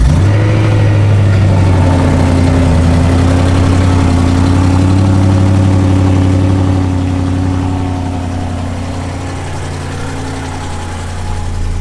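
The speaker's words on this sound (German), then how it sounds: "wir machen wieder Kaltstart" Car engine cold-starting, then settling into a steady, loud, close idle with a low droning hum that eases slightly toward the end.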